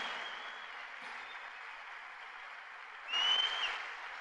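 A church congregation applauding during an evening Sunday service, a faint, distant wash of clapping that swells louder for a moment near the end.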